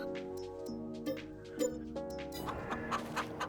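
Flock of free-range chickens in Farming Simulator 22 on a European farm map, clucking and squawking in short bursts over a steady droning game background, with brief sharper calls standing out near the end.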